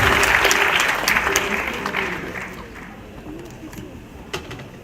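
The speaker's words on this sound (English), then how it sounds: "Can we give a big round of applause to President UHAS?" An induction ceremony audience of newly qualified physician assistants applauds loudly, the dense clapping tapering off gradually to a lighter patter with a few scattered claps near the end.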